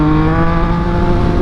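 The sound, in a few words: Yamaha MT-09 motorcycle engine revving with throttle opened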